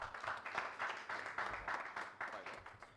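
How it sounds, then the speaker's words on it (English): An audience at a Kenyan diaspora homecoming convention gives a round of applause as a speaker comes up. The clapping is quiet and distant, with gentle swells and no break over about three seconds. "So a round of applause for Paul as he comes as well."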